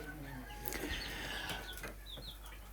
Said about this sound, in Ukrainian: Дуже гарна курочка, дуже гарні здорові півні.